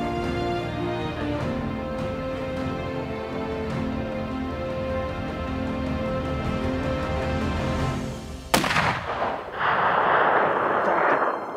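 A single sharp muzzleloader rifle shot fired at an elk on a calm, windless day in New Mexico, a sudden loud crack near the end, standing out from steady ambient hum and followed by a burst of broadband noise.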